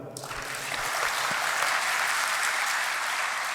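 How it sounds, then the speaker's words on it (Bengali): Dense applause from an audience congratulating successful students at a gathering starts almost at once and holds steady and loud, a thick wash of many hands clapping. "আমরা সবাই একসাথে করতালির মাধ্যমে সবাইকে আমরা কংগ্রেচুলেট করতে পারি"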